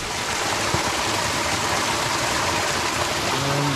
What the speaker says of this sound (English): Here's the big waterfall.